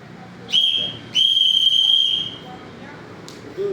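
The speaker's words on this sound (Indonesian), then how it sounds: "bunyi peluit panjang" A shrill whistle sounds Morse code twice, first a short blast then a long steady one, followed by a quick faint chirp near the end.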